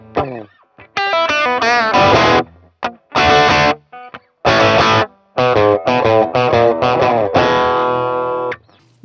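An electric guitar through a Boss Katana amp with an overdriven patch plays a riff: loud, crunchy chord stabs and ringing open strings in a choppy rhythm with short gaps.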